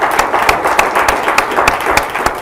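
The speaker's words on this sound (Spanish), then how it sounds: "Un aplauso al Señor, porque su palabra tiene cumplimiento." A congregation at an evangelical church service claps together, giving steady, rhythmic applause that repeats about three times a second under a broad wash of crowd noise.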